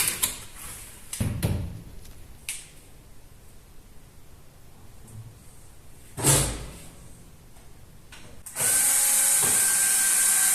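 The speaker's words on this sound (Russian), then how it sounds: "И для дополнительной фиксации все прокручивается саморезами по дереву." A power drill drives wood screws while a heat-resistant board is fixed in a semicircular fireplace surround. Quiet handling noises and a few short bursts come first, then a loud, steady whirring run takes over near the end.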